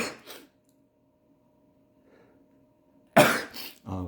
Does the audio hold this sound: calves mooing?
no